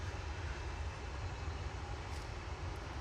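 A Swiss Airbus A220 jet departing Manchester Airport, heard as a steady, broad rumbling roar with strong low end that holds level throughout without any voices.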